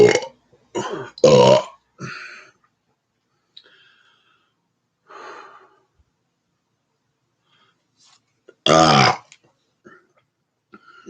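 A person burps loudly several times close to the mic, a quick cluster of short belches, then quiet breathy sounds, and one long, deep belch near the end followed by a faint click.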